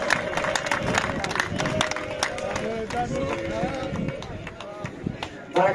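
Audience applause at an award ceremony honoring a local figure in Corinth, Greece: a dense, steady patter of many hands clapping throughout, with crowd murmur mixed in and a brief louder surge at the end.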